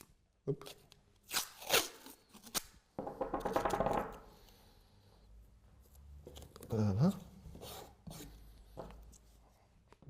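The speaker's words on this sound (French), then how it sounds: "vous recouvrez d'abord la surface totale de la planche, cela avec du collant de peintre" Painter's tape being pulled and pressed over a wooden board, giving several close, scratchy bursts of tearing and rubbing with short pauses between them.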